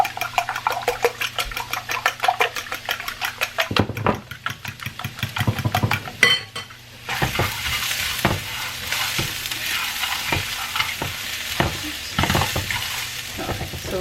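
A French toast mixture of eggs with salt and pepper is whisked in a bowl, quick rhythmic clicking strokes that pause briefly and then resume in a rougher, continuous scraping swirl, close and clear.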